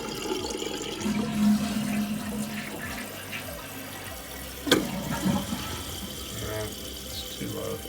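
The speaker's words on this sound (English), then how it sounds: "So let's go ahead and flush it." A toilet with a leaky flapper flushes, rushing and gurgling water running for several seconds, moderately loud and close, with a sharp clunk partway through as the tank drains and refills.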